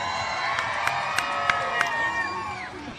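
An outdoor parade crowd cheering and shouting in a dense, continuous roar, with a few sharp claps or bangs standing out at regular intervals and children's voices mixed in.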